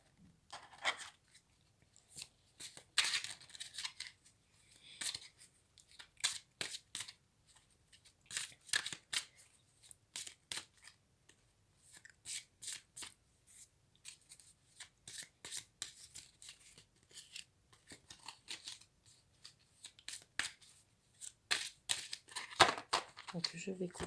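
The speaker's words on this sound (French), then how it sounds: "Donc je vais couper et je vais sélectionner les 3 cartes." Tarot cards shuffled and cut in a quiet room, a long run of quick papery riffles and soft slaps in irregular bursts, close and fairly faint, with no talking.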